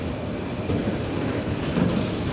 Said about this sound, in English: Is this a cargo train? That's the cargo train.